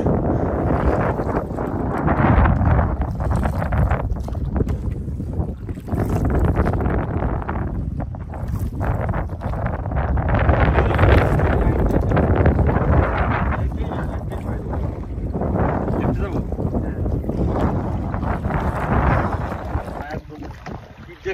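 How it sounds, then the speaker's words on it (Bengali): Steady, loud wind buffeting the microphone outdoors near water, a continuous rushing roar with gusts rising and falling throughout. "অনেক বাতাস"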